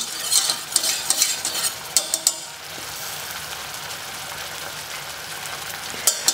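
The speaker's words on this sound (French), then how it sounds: "je vous invite à ajouter le fond de veau avec toutes les parures, de mélanger un peu le tout" Veal stock and meat trimmings are stirred into reduced wine for a bordelaise sauce: a run of close spoon clicks and scrapes against the pan over a sizzle, then a steady, quieter simmering hiss.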